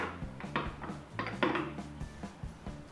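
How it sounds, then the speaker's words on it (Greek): A spoon stirs a warm coconut oil mixture in a pot for cereal bars with red fruits, giving soft scrapes and light clinks against the pot in an irregular rhythm, fairly quiet and close. "Ανακατεύω λιγάκι."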